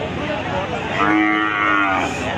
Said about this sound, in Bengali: বিশাল আকারে বিগ সাইজ একটি শাহিওয়াল একটি গরু দর্শক